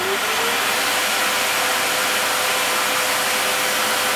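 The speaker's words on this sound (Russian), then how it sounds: "а теперь включаю воздуходувку" A small air blower drives a steady, loud broadband rush of air down a tube lowered almost to the bottom of a container, holding an even hiss throughout.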